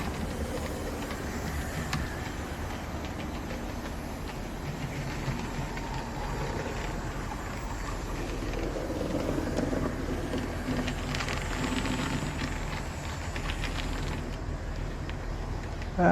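Model locomotive on an Indian railway layout runs along the track, a steady low rolling rumble with faint clicking, continuous and close, no voices.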